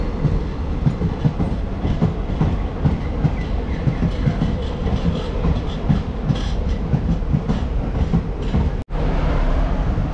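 A local passenger train running between Bagdogra and Siliguri in India, heard from inside as a continuous loud rumble with steady rhythmic wheel clatter over rail joints, and a brief dropout near the end.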